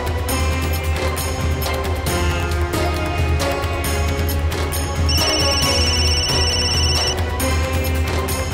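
A telephone rings amid a busy scene with music, its tone sounding steadily for a couple of seconds in the second half, fairly clear above the background.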